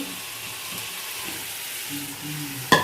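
Marinated paneer tipped into oil-fried masala, a steady low sizzle hissing throughout, then a sharp clatter of utensil and pan near the end.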